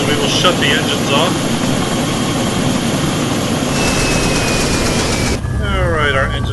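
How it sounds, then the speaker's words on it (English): In a video game, a landed helicopter shuts down its engines, a loud steady roar that holds and then changes abruptly near the end as the engine tone drops away, with speech-like sounds over it. "our engines are shutting down"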